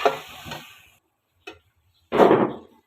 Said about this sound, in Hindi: ये मिर्चों को इसके अंदर भूनते हैं।